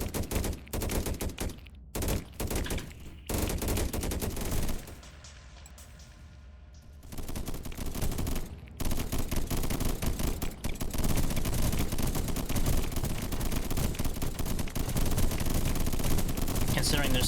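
Defensive cannons and guns in the strategy game Deep Among the Swarm fire in dense, continuous rapid volleys, loud and sustained, with a brief quieter lull partway through before the barrage resumes. A voice talks over the gunfire.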